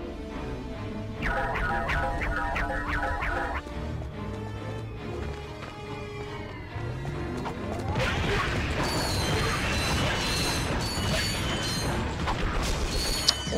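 Bomb glove explosions and mechanical clanks from the video game Ratchet & Clank HD, with rhythmic metallic game effects giving way to a dense burst of crashing blasts and debris mixed with music.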